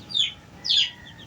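Two short, high-pitched calls from young Kanokis fighting-breed roosters, close by and clear, a quick pair of squawking chirps over a quiet background.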